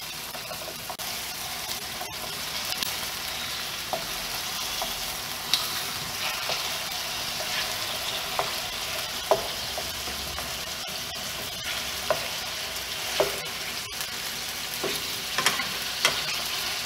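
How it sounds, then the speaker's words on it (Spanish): Chicken pieces fry in olive oil in a pan with a continuous loud sizzle and crackle, broken by small pops and occasional stirring scrapes, with no talking. "En una cacerola o en un sartén vamos a agregar aceite de oliva y vamos a empezar a agregar nuestro pollo"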